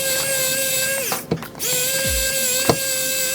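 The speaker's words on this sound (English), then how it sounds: "this screwdriver is everything right here" A powered screwdriver drives screws into a new PC case at close range, a steady whine running in two bursts split by a short pause with faint knocks, then a brief low thud near the end.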